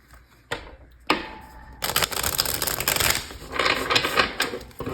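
Crisp, rapid riffling and flapping of tarot cards, a few sharp snaps early on followed by a dense, continuous shuffling rustle, close and fairly loud.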